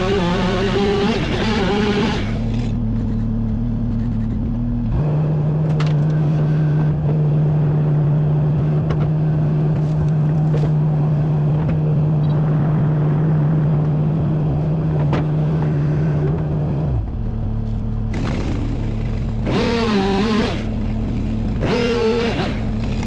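A high-torque industrial wood chipper and stump grinder processing wood, a loud continuous engine drone with a steady hum through the middle and bursts of louder grinding at the start and end, no talk.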